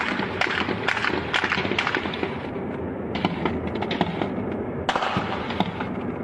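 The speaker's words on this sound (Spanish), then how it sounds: "Esos disparos son captados por ciudadanos a varios metros de distancia." Distant gunshots fired by soldiers ring out as a rapid, irregular series of sharp cracks, one after another, over a rough, noisy outdoor background, with a couple of brief pauses and bursts resuming.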